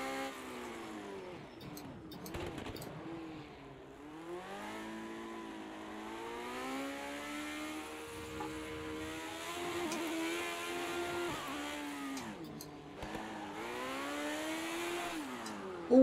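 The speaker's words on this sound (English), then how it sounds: "The engine noise changes as we come back out here." Race car engine in the Project Cars 2 video game, a moderately quiet whining drone whose pitch climbs and drops repeatedly through gear changes and corners, with brief lifts of the throttle.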